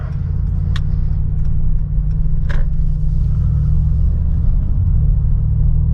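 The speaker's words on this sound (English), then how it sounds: "we're gonna casually get up to speed, just in comfort mode" Mercedes G63 AMG easing up to speed in comfort mode, heard from inside the cabin as a loud, steady low engine rumble and road drone with no talking.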